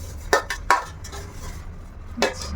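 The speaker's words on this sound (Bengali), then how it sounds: "এই ঘিটা এখন পুরো পাত্রের গায়ে লাগিয়ে নেব" Ghee being spread around the inside of a cooking pot for chicken biryani, heard as a few sharp metallic clinks and light scraping close by, with no talking.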